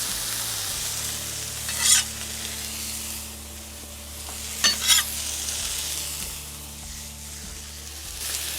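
Smashed beef burger patties sizzle on a griddle in a steady, close frying hiss, with a low hum beneath and a few sharper bursts of spatter or scraping.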